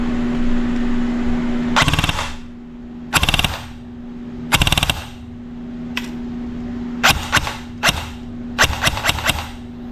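An upgraded ICS CXP ARK airsoft rifle fires on full auto in about six short, sharp rattling bursts, loud and close, separated by pauses over a low steady hum.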